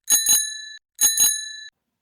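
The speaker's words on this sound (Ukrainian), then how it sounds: "дзвоник велосипеда" A bicycle bell rings twice, each time a quick double ding with a bright metallic ring that fades, the two rings about a second apart and heard alone.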